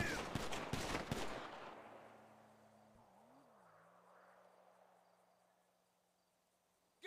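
Video game gunfire: a rapid cluster of sharp shots at close range during the first second and a half, then a long fading tail over faint low electronic hum and near silence.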